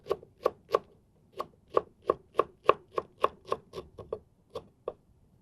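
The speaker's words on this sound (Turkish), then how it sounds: "ince ince pırasaları kıydım" A knife chops leeks for vegetable soup on a cutting board in a steady run of sharp taps, about a dozen crisp strokes with brief pauses.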